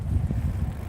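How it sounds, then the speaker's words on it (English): Wind blowing across the microphone during an outdoor bike ride, a steady low rumbling buffet that rises and falls throughout the short stretch with no talk. "It's getting kind of windy."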